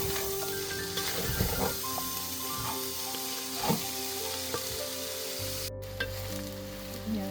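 Onions frying in a pan for beef samosas, a steady close sizzle with scattered scrapes and clicks of stirring running the whole way, plus a low hum joining near the end.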